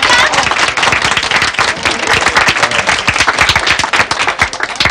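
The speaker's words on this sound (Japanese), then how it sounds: "拍手。" Studio audience applause at a 1970s Japanese television drama set, dense rapid clapping from many hands filling the room steadily and loudly throughout, with no talk over it.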